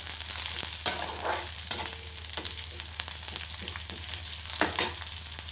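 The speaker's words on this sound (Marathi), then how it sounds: "कांदा थोडासा लालसर होऊ द्यायचा" Chopped onion frying in a pan until lightly browned, a steady soft sizzle with occasional sharper crackles and stirring clinks, close and continuous with no talking.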